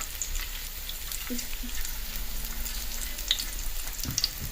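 Aloo tikki frying in oil gives a soft, steady crackling sizzle with scattered faint pops, a low, even background with no talking.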